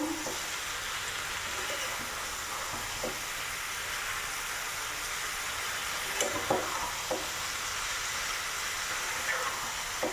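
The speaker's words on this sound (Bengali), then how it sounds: "ফাইনালি আমার সবজিটা বসিয়ে দিয়েছি, একদম মাখা মাখা করে নিতেছি।" Vegetables fry in a pan under a steady, loud sizzle while a spatula mixes them, adding occasional light scrapes and taps against the metal.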